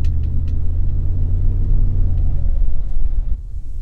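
Bentley Mulsanne Turbo V8 rumbling while the car drives, a loud, steady low drone heard from inside the cabin, easing slightly near the end.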